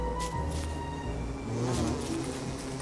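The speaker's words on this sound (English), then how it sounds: "These bees are scary." Bees in the Don't Starve video game buzz as a continuous droning hum, mid-level and steady throughout, with a faint musical tone underneath.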